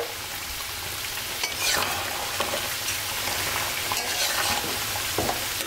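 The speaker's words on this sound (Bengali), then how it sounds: "আলু ভাজি হচ্ছে," Potatoes frying in oil in a pan while being stirred, a dense close sizzle broken by repeated scraping strokes of a spatula every second or so, no voices.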